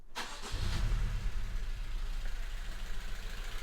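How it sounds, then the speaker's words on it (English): A 2016 Honda Civic 1.8 VTEC with a cylinder misfire starts with a short crank and catch, then settles into a rough, uneven idle with a lumpy low-frequency pulse, close and alone. "We're still clearly misfiring"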